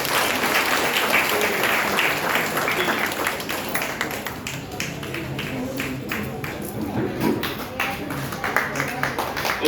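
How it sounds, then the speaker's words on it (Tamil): An audience at a business meeting applauds, with dense clapping fading slightly and then carrying on in scattered claps as voices talk over it. "ஒரு கைத்தட்டு கொடுக்கலாமா?"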